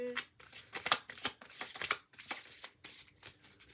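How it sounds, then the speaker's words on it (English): A deck of cards being shuffled in a series of quick riffling bursts with short pauses between them, close and fairly quiet, with no talking. "These cards are so hard to shuffle."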